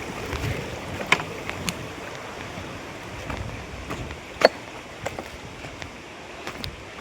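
A river flows through a large forest among big rocks, giving a steady rushing, hissing wash with occasional sharper splashes. It runs alone with no talk.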